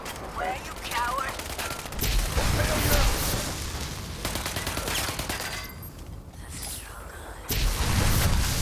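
Gunshots in the video game Fallout 76, rapid bursts of automatic fire with a few heavier booms, in loud clusters separated by brief lulls.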